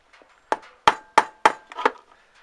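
Five or six firm, dull thuds of a rubber mallet hitting a wooden block in quick succession, close by.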